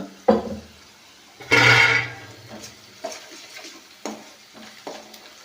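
Onions sprinkled with salt fry in a pan for a village-style country chicken curry, with a brief loud sizzle burst and scattered stirring clinks and scrapes of the spoon, close by and without speech.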